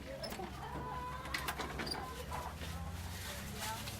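Chickens in a cramped petting-zoo coop cluck faintly amid steady background noise and rustling, with people talking nearby.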